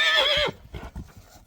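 A Trakehner horse gives a loud, close, shrill neigh lasting about half a second, followed by a few soft hoof clops.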